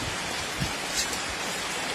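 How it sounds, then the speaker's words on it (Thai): Heavy rain pours outside a house in a constant, dense roar of drops, loud and close, with a few slightly louder splashes and no voices. "วันนี้ฝนตกแรงมาก"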